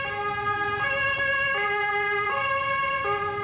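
A wailing emergency siren alternates between two tones in a steady cycle, loud and continuous over low traffic rumble from a traffic jam among lorries.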